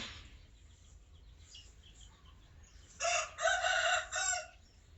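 A rooster crows in a garden, one loud, close cock-a-doodle-doo that breaks out after a few seconds of quiet background hum and lasts about a second and a half.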